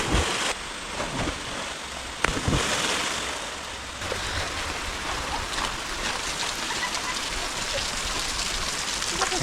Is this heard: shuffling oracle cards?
no